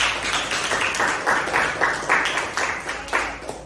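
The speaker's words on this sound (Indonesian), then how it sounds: "Tepuk tangan untuk Aziz." Classroom applause for a student in a lesson, with a small group clapping in uneven bursts at close range and a few voices mixed in.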